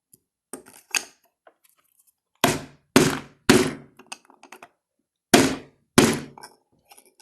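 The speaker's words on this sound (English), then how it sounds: "whack it with the tube again." A TRN shotshell reloading kit tool is struck with its tube on a table, producing a series of loud, sharp thunks in irregular pairs and singles, close up, with quiet gaps between.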